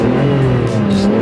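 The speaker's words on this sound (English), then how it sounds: "Let's try some revs." A Ferrari Testarossa's engine revs loudly from inside the cabin, a dense, steady roar that swells slightly as the throttle is blipped, with no voices over it.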